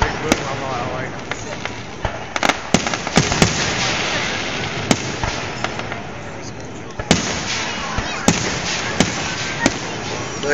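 Fireworks display going off in rapid succession, with sharp loud bangs and booms bursting every second or so over a constant crackling, popping background, with crowd voices faintly underneath.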